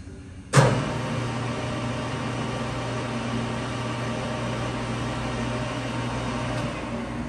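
A 2008 Clausing Metosa C1340S 13x40 gap lathe starts with a sharp thump and settles into a steady, even motor whine with a low hum at 660 RPM, running alone without speech.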